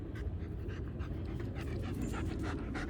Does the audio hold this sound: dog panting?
yes